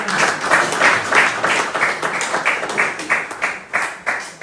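Church congregation clapping in steady rhythm, a fast even beat of many hands, fairly close and continuous, with a faint voice underneath.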